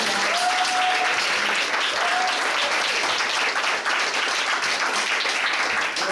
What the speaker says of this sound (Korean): 참여해주신 두 분께 다시 한번 뜨거운 박수 부탁드립니다